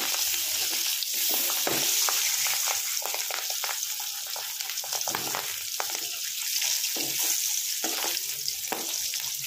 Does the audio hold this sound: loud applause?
no